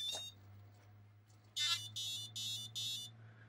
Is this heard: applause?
no